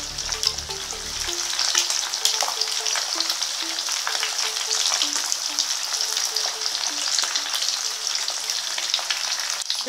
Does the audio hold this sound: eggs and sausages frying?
yes